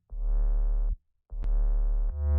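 Deep, heavy layered sub bass with 808 fuzz, buzzy and distorted, played in two long sustained hits separated by a brief gap, then a third starting.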